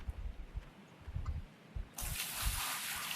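Water tipped into a pan of dirt in the Gold Rush mining game: soft knocks and clatters give way to a sudden steady rush of pouring water that continues to the end.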